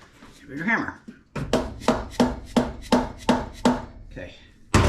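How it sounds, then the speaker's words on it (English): Heavy hammer blows on the cylinder head of a Geo Tracker engine during a head gasket replacement: about eight sharp, evenly spaced metallic strikes, close and loud, following a brief stretch of talk. "Bigger hammer."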